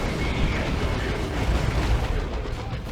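A melta bomb explodes against the rear armor of an upgraded war truck in a strategy video game, giving a dense, continuous roaring blast that stays loud for its whole length.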